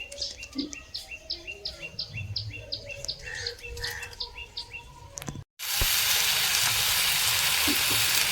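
Mixed vegetable chorchori sizzling and frying in a pan, a steady loud hiss in the latter part after a stretch of birdsong and faint clatter earlier, with no talk.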